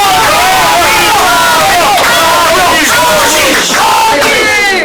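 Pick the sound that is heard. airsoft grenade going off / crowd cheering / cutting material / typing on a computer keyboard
crowd cheering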